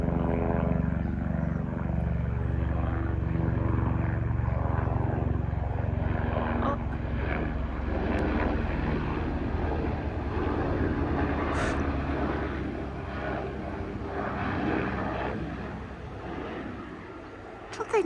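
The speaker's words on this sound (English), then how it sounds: "There's a helicopter." A helicopter passing overhead near a 200-year-old Irish cottage, a distant, steady engine and rotor drone that swells and slowly fades, with faint outdoor background noise.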